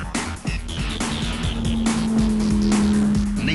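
A race car engine at full throttle on a fast lap of a track with a hairpin, held loud and close with a sustained rising and falling note as it shifts through corners, with no talk.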